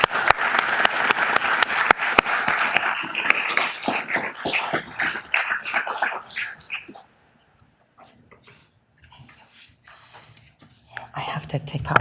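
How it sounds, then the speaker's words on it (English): Audience applause in a city council chamber greets an award recipient coming up to accept a mayor's legacy honor, with dense clapping and scattered voices for several seconds, then fading into quieter taps and murmurs. "I want us to give her a huge round of applause as she comes up to receive the Mayor's Legacy Award"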